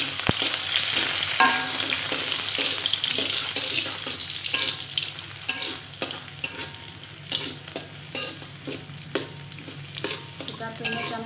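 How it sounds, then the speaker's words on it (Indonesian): Garlic sautés in hot oil, a loud continuous crackling sizzle with a spoon stirring and scraping the pan through it. "ini minyaknya sudah panas. Kita tumis dulu bawang putihnya"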